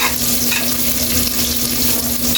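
Chili and other ingredients sizzle in a pan for a Filipino milkfish (bangus) dish, a steady, loud, dense frying hiss with faint stirring, and no voices.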